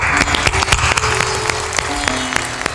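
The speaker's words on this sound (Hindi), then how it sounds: "सभी दानियों के लिए ताली बजा दो।" Applause from a crowd at a religious satsang gathering in Bihar, honouring donors: steady, fairly loud clapping with sharp individual claps standing out, continuing throughout without speech.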